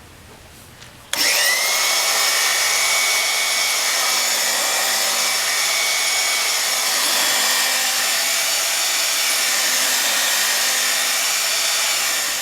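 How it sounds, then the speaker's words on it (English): A cylinder hone runs steadily inside a long cylinder bore lubricated with kerosene, giving a loud, continuous abrasive whir with a tonal whine that starts abruptly after a brief quiet moment and holds for the rest of the clip. "Lubricate the hone a little bit with some kerosene."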